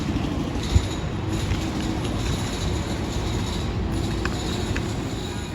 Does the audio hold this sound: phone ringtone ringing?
no